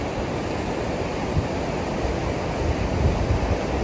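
Storforsen rapids in Norrbotten, Scandinavia's largest, with a 60-metre drop and about 250 cubic metres of water per second, give a steady, dense roar of rushing water that swells slightly toward the end, with no voices.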